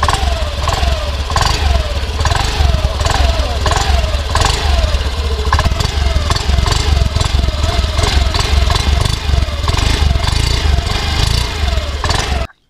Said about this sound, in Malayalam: ആ ഒരു എക്സോസ്റ്റ് സൗണ്ടിൽ നേരത്തെയുള്ള മോഡലിനെക്കാട്ടി ബി എസ് സിക്സ് മോഡലിന് കുറച്ചുകൂടെ എന്താ പറയുക ഗ്രണ്ട് അല്ലെങ്കിൽ ബാസ് കൂടി ഒരു എക്സോസ്റ്റ് നോട്ടാണ്